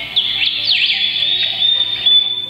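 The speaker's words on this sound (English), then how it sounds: "We can choose the sounds. One is the birds." Recorded birdsong plays from a Tecboss wake-up light, a continuous high chirping and trilling with rapid tweets and whistles, clear and fairly loud, with nothing else around it.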